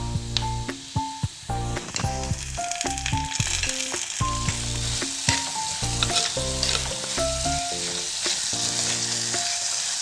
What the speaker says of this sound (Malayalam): നമ്മുടെ സവാളയും ഇഞ്ചിയും വെളുത്തുള്ളിയും പച്ചമുളകെല്ലാം കൂടെ നന്നായി വഴന്ന് വന്നിട്ടുണ്ട്